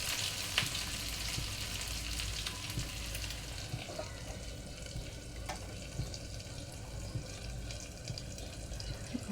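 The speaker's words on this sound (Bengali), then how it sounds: "এখন আমি ডিমটা ভাজি করে নিব" An egg frying in a pan gives a steady, close sizzle with light crackles and a few sharp ticks, constant in level throughout and with no speech.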